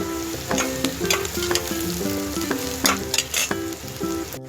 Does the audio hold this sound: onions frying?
yes